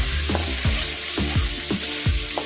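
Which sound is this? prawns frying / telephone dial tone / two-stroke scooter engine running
prawns frying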